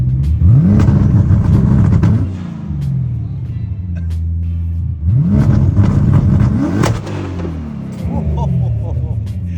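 A twin-turbo BMW E92 M3 making over 850 horsepower revs hard with anti-lag engaged, its loud engine swelling and sweeping up in two big surges with a steady rumble between them, while people talk faintly underneath.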